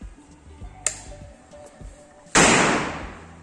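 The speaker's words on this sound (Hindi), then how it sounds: "पीछे पटाखे फोड़ रहा है मेरा भाई" A firecracker bursts outside during Diwali celebrations, a sharp loud crack followed by a decaying hiss, with a fainter pop and light clicks earlier in the quiet.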